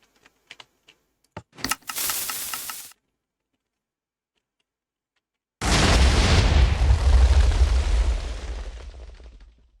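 In the Minecraft video game, a TNT cannon fires with a few quick sharp pops and a short burst, then after a silent gap a large, loud explosion roars and slowly fades.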